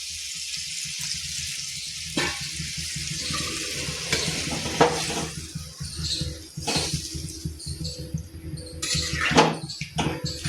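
A spoon stirs an eggplant, potato and adauri curry in a pan, with scraping and soft sizzling in uneven bursts, close and fairly loud, with no talking.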